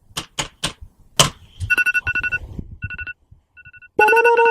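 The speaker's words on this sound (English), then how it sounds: "the next ringtone is radar" An iPhone plays its Radar ringtone, preceded by a few sharp taps. Bright electronic beeps then pulse in a quick repeating pattern, pause, and resume louder and fuller near the end.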